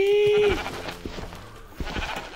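Sheep bleating in the Minecraft video game, a single clear bleat at the start followed by quieter game sounds and soft thumps.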